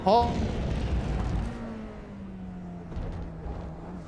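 A McLaren race car in a racing game at Spa Francorchamps drones along at speed, its engine note gliding slowly downward. The engine sits under a loud burst at the start and some background rumble.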